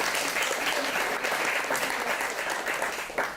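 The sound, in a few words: audience applause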